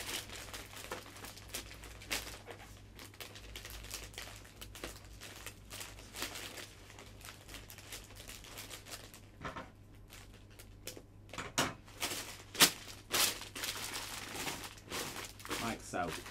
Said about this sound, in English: take a piece of twine and fasten off the cellophane around the base